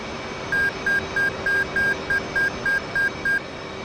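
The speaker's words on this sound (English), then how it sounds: "FCS bit is complete, marked by the beep tone" A flight simulator cockpit sounds a beep tone marking completion of the flight control system built-in test, about ten short, evenly spaced electronic beeps in a quick run over a steady low hum.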